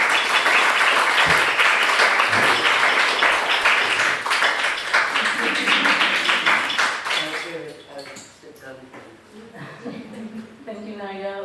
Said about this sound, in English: please join me in a warm round of applause for our speakers